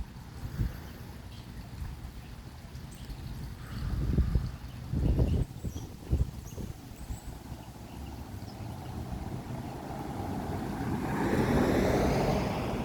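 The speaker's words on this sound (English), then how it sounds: "enjoy this stream sound for a second, of this fountain" Steady rushing water from a street fountain in Howard Beach, Queens, New York, a broad continuous wash with a few louder bumps midway and passing car traffic swelling in near the end.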